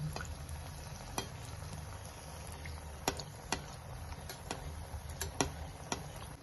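Anarse, a jaggery and rice sweet topped with poppy seeds, fries in hot oil with a steady low sizzle. Sharp pops and ticks break through now and then, close to the listener.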